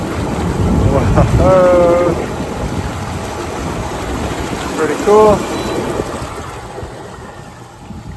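Air jets in a Bestway SaluSpa Miami AirJet inflatable hot tub churn the water into a continuous, loud, rushing bubble roar, and a nearby voice briefly reacts over it.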